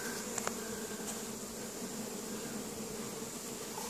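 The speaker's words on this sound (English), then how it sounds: "Lots of bees." Honey bees buzz steadily at a hive in a bee yard during spring boxes being rearranged, a constant close drone with a few brief clicks near the start and no talking.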